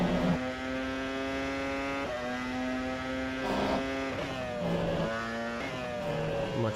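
Steady Formula 1 car engine drone in a racing simulator at Circuit of the Americas, shifting pitch and easing down several times under braking, the tone holding loud and close throughout.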